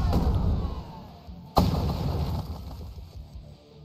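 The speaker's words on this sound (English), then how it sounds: "You just run over me anti-tank mine then, shall we?" An anti-tank mine explodes in the game Polygon Storm. One sharp blast cuts in over ongoing low battle rumble and is followed by a long, heavy rolling boom that slowly fades.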